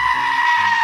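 A goat screams in one loud, close, harsh bleat, held steady and strained for just under a second with no pause.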